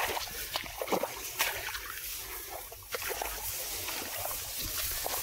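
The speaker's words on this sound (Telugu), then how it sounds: "ఇలా వాటర్లో నడవాలి ఇప్పుడు." Feet wading through water, with irregular nearby splashes and sloshing steps over a soft, constant wash of moving water, moderately quiet and without talk.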